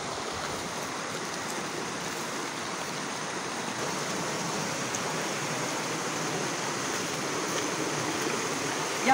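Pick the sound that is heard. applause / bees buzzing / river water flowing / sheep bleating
river water flowing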